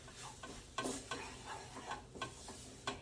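Flour being stirred into melted butter in a pan to start a roux, heard as a soft continuous sizzle broken by several sharp utensil scrapes and taps against the pan, close and steady, with no talking.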